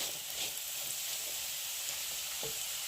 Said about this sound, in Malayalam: ചോറിന് കൂട്ടാൻ വേണ്ടി ഞാൻ ചക്കക്കുരു മെഴുക്കുരട്ടി വെക്കുക